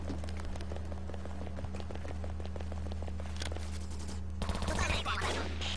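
Gunfire from an online shooter video game during a clan war match in Ballistic, rapid shots over a steady low hum, with a louder flurry near the end and faint voices in the background.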